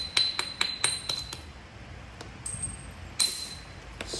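Obsidian is knapped into an arrowhead, a run of sharp glassy clicks and taps close by, several quick strikes in a row, then a pause and a couple more bright chinks.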